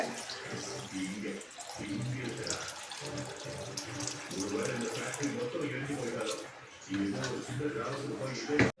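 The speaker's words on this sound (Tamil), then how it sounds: "அப்போ நம்ம சூப்புக்கு தண்ணி ஊற்றுவோம்ல" Water pours steadily into a pot of country chicken curry, made with the water used to wash rice, running beneath a voice talking almost the whole time, with a brief break midway.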